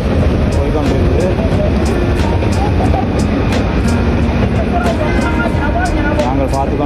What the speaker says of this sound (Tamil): பாருங்க பார்த்தீங்கன்னா மெட்ரோ போய்கொண்டிருக்குது